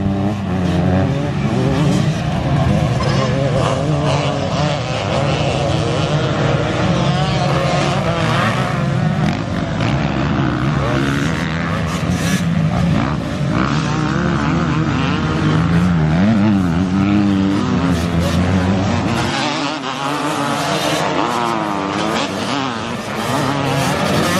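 Motocross motorcycles racing around the Toddington track, a continuous loud buzzing of many engines rising and falling as they pass, with an announcer talking over it throughout.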